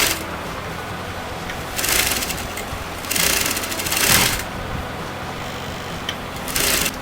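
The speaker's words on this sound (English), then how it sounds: "just like that I'm going to sew that together" A sewing machine stitches fabric for a kurta neck in several short runs, its rapid mechanical chatter rising in bursts between quieter pauses, close and fairly loud.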